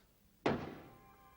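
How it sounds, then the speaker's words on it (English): A single solid thunk on a door, sharp onset then a short fading resonance, heard alone with no speech in a quiet room. "I knocked."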